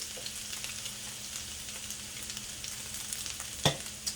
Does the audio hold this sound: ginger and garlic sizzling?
yes